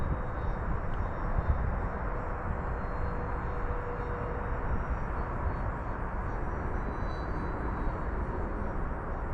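A small electric motor and propeller on an FMS Cessna 182 RC model plane drone steadily in flight, a continuous whining buzz held at an even level.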